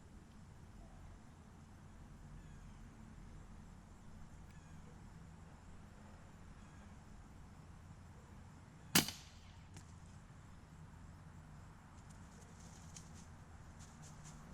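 A single sharp airgun shot at a squirrel in a backyard, a crisp crack fired once midway through a steady outdoor background of ambient noise, faint birds and rustle, with no talking.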